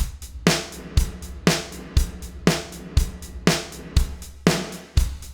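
A steady drum loop runs through an LX480 reverb, its default setting fed in series into a large wood room, with kicks and snares trailing short, dense reverb tails in an even, repeating rhythm.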